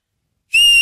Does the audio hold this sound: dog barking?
no